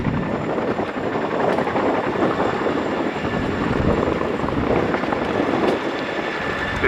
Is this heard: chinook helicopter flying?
yes